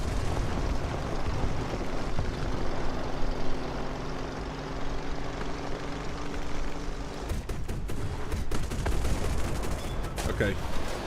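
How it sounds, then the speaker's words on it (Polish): An anti-aircraft gun fires from a distance during War Thunder air combat, as dense rumbling bursts and rapid crackling shots over a constant roar of engine and battle noise. "Na pewno jakaś pelota gdzieś z daleka tam strzela z flanki"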